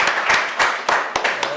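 Studio audience at a live podcast recording claps in a short burst of applause, several dense waves of hand claps close by, lasting under two seconds.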